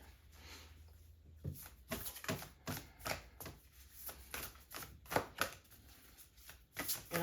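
Cards being shuffled by hand in quiet repeated bursts, crisp riffling snaps at an uneven rhythm, close and soft with no talking.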